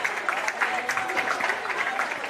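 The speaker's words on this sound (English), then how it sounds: "Getting clapped off here." Steady crowd applause rises as a footballer is clapped off the field at the Big Rivers Football League men's grand final, Katherine Camels versus Ngukurr, continuous clapping from the stands under a commentator's talk.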